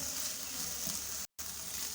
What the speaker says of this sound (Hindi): वेजिटेबल्स को हमें ज़्यादा पकाना नहीं है, बस इसको तकरीबन 30 सेकंड तक बस हम हल्का सा सौते कर लेंगे